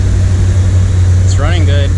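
A 1979 Corvette with an L82 V8 engine sits at a steady fast idle, a loud low rumble running throughout, with a brief voice near the end.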